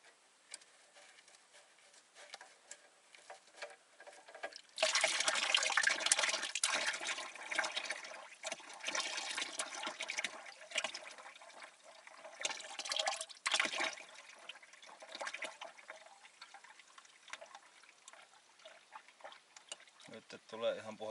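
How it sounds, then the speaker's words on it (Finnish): Dirty black engine oil drains out of a Valmet tractor, first as a faint trickle and then as a louder, splashing, gurgling stream that pulses and eases off over about twenty seconds. "Nyt tulee ihan puhasta, tai puhasta öljyä, vaan likaista mustaa öljyä."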